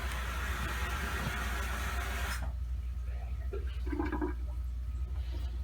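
Water gushes loudly and steadily from a tap while a fish tank is cleaned, then cuts off abruptly partway through, leaving a low hum and faint handling noises.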